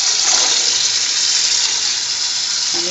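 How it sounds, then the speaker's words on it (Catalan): Sloe berries being rinsed under running water, a steady close hiss of water flowing alone for a few seconds, ending with a small clunk. "Una mica els passem per aigua."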